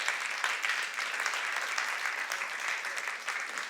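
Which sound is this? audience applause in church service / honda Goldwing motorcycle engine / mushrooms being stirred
audience applause in church service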